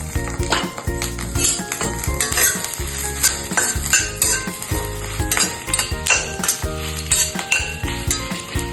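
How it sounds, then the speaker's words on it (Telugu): Dried red chilli pieces frying in a little oil for a drumstick-leaf and sesame powder, loud close sizzling with constant rhythmic scraping and metallic clinks of a spatula stirring in the pan. "ఇప్పుడు ఈ కప్పుడు ఎండుమిరపకాయ ముక్కలు వేసుకుందామండి. ఎక్కువ వద్దండి, కొంచెం నూనె ఒక్క రవ్వ వేసుకుందామండి"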